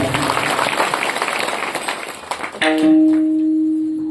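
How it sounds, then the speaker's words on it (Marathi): An audience claps for Ganesh Maharaj at a devotional kirtan gathering, a burst of crowd applause that fades out, followed by a sustained instrumental tone. "सुंदर अशी एका जोरदार टाळी वाजवा गणेश महाराज"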